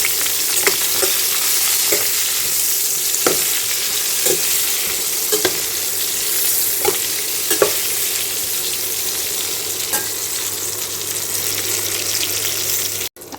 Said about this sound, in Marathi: हे जे भरून घेतलेली वांगी आहे तर ते आता या तेलात फ्राय करू